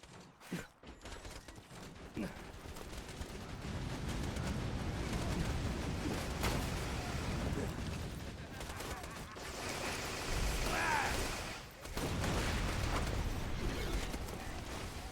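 Automated sentry turret gunfire in the video game Borderlands 2 rattles on continuously for about fifteen seconds, loud and dense, mixed with other battle noise and bursts, with no speech.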